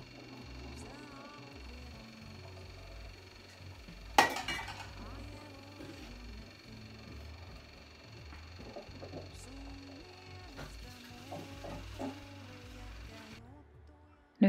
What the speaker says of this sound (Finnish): Mä ajattelin ekaksi taklata noi tiskit tosta